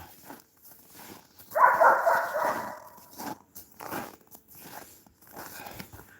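A dog at home whimpers and lets out a burst of barking close by, with a loud yelp-like bark and a few shorter whines around it, while someone speaks in between.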